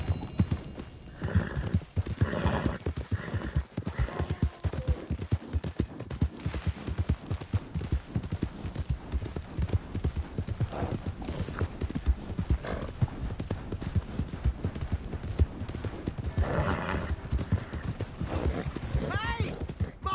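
Rapid rhythmic hoofbeats of a galloping horse in Red Dead Redemption 2 clatter continuously, with a brief whinny and scattered distant gunfire in the mix.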